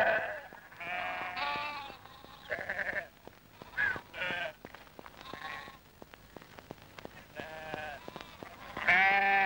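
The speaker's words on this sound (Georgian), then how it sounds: "აბა ახლა დავარგნილ ცხვარს მივეშველოთ" A lost sheep bleats repeatedly in wavering, harmonic calls, some overlapping, fairly close and loud, with short gaps and sharp clicks between cries and a strong final bleat.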